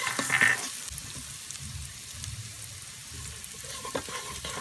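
Garlic cloves frying in a pan for chicken congee, a steady crackling sizzle with soft stirring scrapes close by, moderately loud and without voices.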